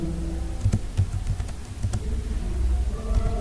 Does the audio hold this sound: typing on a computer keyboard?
yes